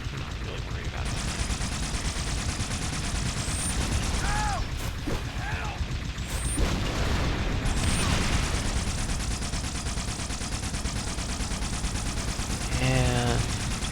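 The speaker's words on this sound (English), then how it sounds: "I'm just gonna go on and pop a few bullets" Rapid weapon fire in Halo: Spartan Assault, a fast continuous rattle of shots mixed with mechanical clicking and whirring game effects, steady and close, with a voice heard faintly alongside.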